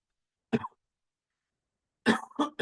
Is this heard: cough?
yes